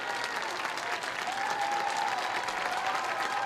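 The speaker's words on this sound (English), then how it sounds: "Reed-Custer fans doing the clapping." Reed-Custer fans clap in the stands at a Class 2A high school boys' baseball championship game. The crowd claps steadily and densely throughout, with a faint tonal whistle or voice rising over it midway.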